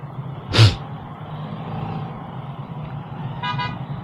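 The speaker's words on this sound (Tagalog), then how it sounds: "Traffic dito." City traffic on a busy road with car horns: one sharp honk near the start and another shorter toot later, over a steady low rumble of passing vehicles, moderately distant with no speech.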